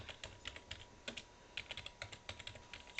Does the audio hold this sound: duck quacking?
no